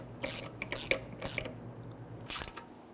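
Ratchet clicking in short bursts while snugging the transmission oil pan bolts on a 1999-2004 Jeep Grand Cherokee 4.7L V8, gently and evenly around the pan, with quiet pauses between strokes.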